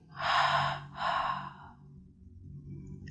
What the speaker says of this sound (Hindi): सांस लें, शरीर कसें, सांस छोड़ें।